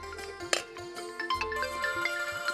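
A phone ringtone plays a bright, repeating electronic melody, moderately loud and close, with no talking over it.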